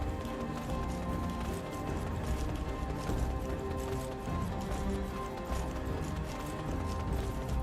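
Horse hooves trotting in an MMO video game, a steady clip-clop rhythm running throughout, close and fairly loud over a dense bed of game ambience and music.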